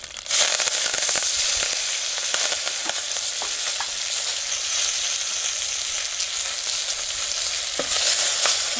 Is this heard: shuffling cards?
no